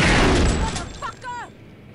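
Explosion and gunfire in the video game Kingpin: a loud broadband blast at the start that trails off over about a second, followed by a few brief tonal game sound effects.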